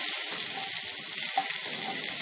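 Pre-fried spiced potato pieces hit a hot pan and sizzle steadily in oil, a continuous close frying hiss with no voices.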